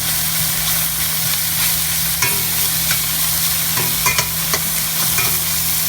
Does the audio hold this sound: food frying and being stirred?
yes